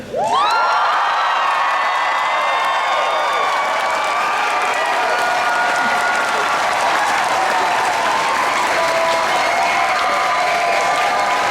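A loud convention crowd at a fursuit dance competition cheers, whoops and claps on cue, a sustained roar of shrill screams and applause that swells at once and holds at full volume.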